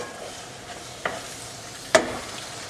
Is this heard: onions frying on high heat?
yes